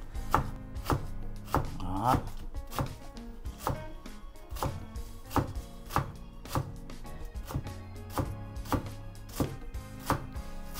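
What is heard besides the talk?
chopping Vietnamese water celery (rau cần) with a knife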